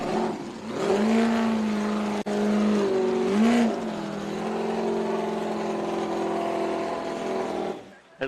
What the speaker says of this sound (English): The little engine absolutely screamed.